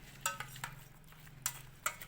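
A spoon stirs and scrapes chutney in a bowl for dosa, giving several sharp clinks and scrapes at uneven intervals, close by and fairly quiet, with no talking.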